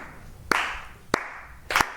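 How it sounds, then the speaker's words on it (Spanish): A small group claps hands three times in separate, slightly uneven bursts, each a crisp, close smack with a brief tail, spaced across a couple of seconds with quiet between. "hagamos palmas."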